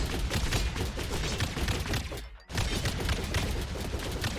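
Rapid, dense video game gunfire that rattles in a nearly continuous loud stream, breaking for a brief moment of near silence before resuming just as intensely.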